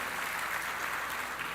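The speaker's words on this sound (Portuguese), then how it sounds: "Dá um aplauso ao Senhor pela vida deles." A church congregation at a celebration service applauds in a steady, dense wash of many hands clapping, moderately loud and continuous, with no voices standing out.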